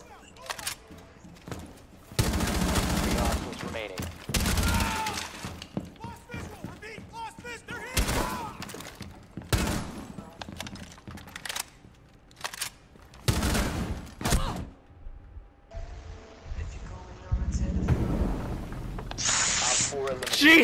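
Gunfire in a shooter video game, Terrorist Hunt mode: bursts of rapid automatic fire and single shots, loud and close, in irregular clusters with pauses and scattered game sounds.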